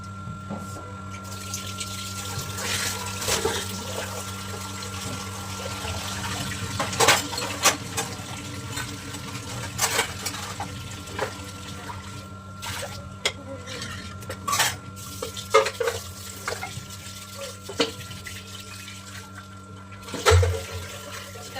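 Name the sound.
washing chicken with running water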